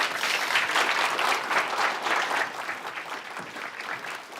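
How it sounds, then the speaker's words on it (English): Conference audience applauding after a panel introduction at a conference in Kirkenes, a dense, steady wash of many hands clapping that eases off slightly toward the end, with no talk over it. "Good, big applause for Tormod Heia."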